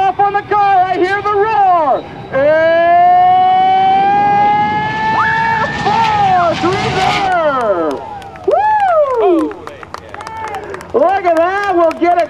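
Air Force Reserve jet car at an airshow revving to full throttle, a loud sustained rising roar with strong harmonics that swells and shifts in pitch, crowd noise and a commentator's voice over it.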